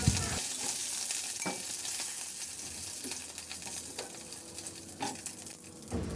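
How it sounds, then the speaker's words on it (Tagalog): Garlic sautéing in a hot pan, an even crackling sizzle close by, with scattered spatula clicks and scrapes as it is stirred, no voices. "Sa disim na kawali, igisa ko na yung bawang."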